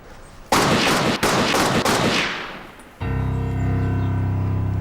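Gunfire erupts at a wedding celebration, a loud close burst of rapid shots with brief gaps that tapers off, followed by a steady droning hum.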